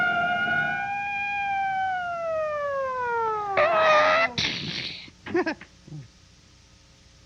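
A police car siren from old film footage wails in long, falling tones, then breaks into sharper bursts and scattered clatter before dropping off, moderately loud with no talk over it.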